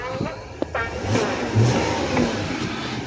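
The 3.6-litre engine of a 2021 Jeep Gladiator Mojave idles steadily with a low, smooth hum, close by, beneath someone talking throughout.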